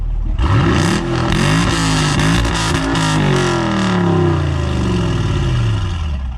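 A 2017 Chevy SS V8 sedan engine revs hard and loud, its roar climbing and falling through several throttle blips in sustained close-up bursts with no talking.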